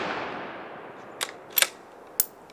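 A .204 Ruger rifle fires at a can outdoors: three sharp, fairly quiet reports spaced about half a second apart, following a fading noisy wash, with no voices.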